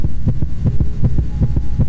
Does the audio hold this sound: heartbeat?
yes